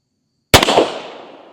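A single sharp, loud gunshot from a Bond Arms Snake Slayer IV double-barrel pistol firing .38 Special rounds, fired one-handed, follows a moment of silence and trails off in a short echoing decay.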